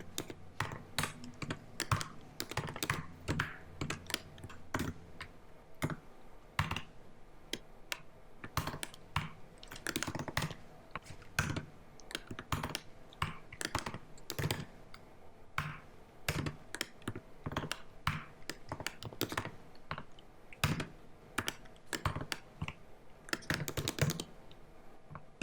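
Code being typed on a computer keyboard for iOS development, a steady run of quick, close key clicks with brief pauses and occasional louder strokes, no talking.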